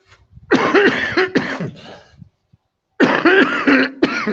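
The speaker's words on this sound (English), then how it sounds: "I'm coughing, and I'm still having a little cold going on." Two bursts of harsh, hoarse coughing from a person with a cold, each a rapid cluster of coughs, close and loud, separated by a short silence, heard through a headset.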